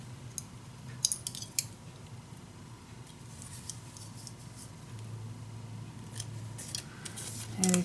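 Scissors cutting a paper piece for a winter-themed mini album in a suitcase: sparse, quiet snips and clicks close by over a low steady hum, with no speech.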